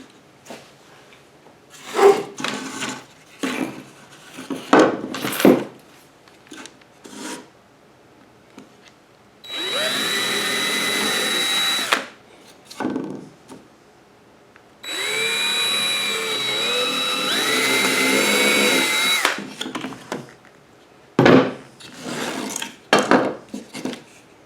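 A power drill drills wood in two sustained whirring bursts, each several seconds long, between scattered knocks and handling clatter at close range.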